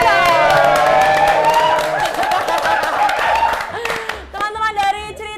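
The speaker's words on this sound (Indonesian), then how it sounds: "Tepuk tangan dulu." Crowd at a running event breaks into clapping and cheering that stays loud, then thins toward the end, with voices and music-like tones mixed in throughout.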